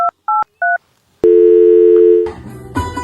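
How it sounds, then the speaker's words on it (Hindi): A telephone is dialed: a few short beeping keypad tones sound one after another, then a loud steady tone takes over and drifts into a busier electronic signal, close and clear with no talking. "बड़ी आल फोन मिलाऊं"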